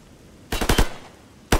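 Gunfire in the first-person shooter Stalker Gamma: a quick burst of several close, loud automatic shots followed after a short pause by one more sharp shot, with no voices.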